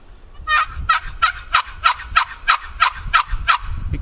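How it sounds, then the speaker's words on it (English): Hand-held turkey call sounding a raspy, deep yelp, about ten rapid evenly spaced notes, loud and close with no talking. "See how raspy deep that is?"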